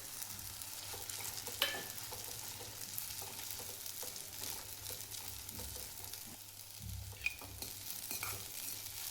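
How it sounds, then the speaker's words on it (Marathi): Sago pearls roasting in a spoonful of hot ghee for a fasting kheer, a steady soft sizzle with occasional scraping stirs and light clinks of a spoon on the pan, no voices. "तूप गरम झाले, शाबू भाजून घ्यायचा आहे तुपामध्ये."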